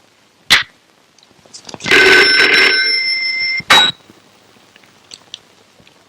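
An old-style telephone bell rings in a long burst of about two seconds, preceded and followed by short sharp clicks and knocks in an otherwise quiet room.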